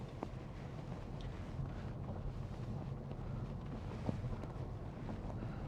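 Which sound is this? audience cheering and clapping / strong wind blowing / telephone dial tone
strong wind blowing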